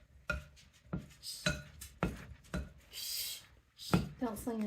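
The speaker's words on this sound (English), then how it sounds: "just keep stirring" A spoon stirs Christmas cookie dough in a bowl, clinking and scraping against the sides in a steady series of knocks, with voices talking close by.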